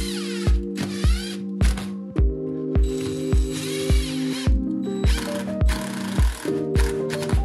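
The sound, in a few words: ratchet tightening toilet flange screws into subfloor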